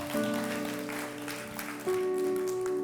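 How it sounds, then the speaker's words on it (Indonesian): Congregation applause at a Good Friday church service, a steady wash of hand claps heard at a distance beneath sustained organ or keyboard chords. "Berikan tepuk tangan"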